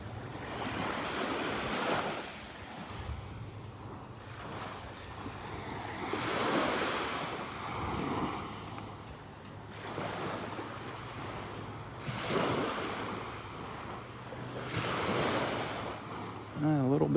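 Surf rolling onto a Gulf beach in North Naples, Florida on a morning walk, waves breaking in slow repeating swells every few seconds, with steady wind rushing over the microphone and no talking.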